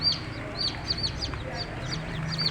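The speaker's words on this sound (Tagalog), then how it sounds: "napisa na sisiyaw sa aking carton incubator" Newly hatched chicks in a carton incubator peep in repeated high, bright chirps over a low background hum.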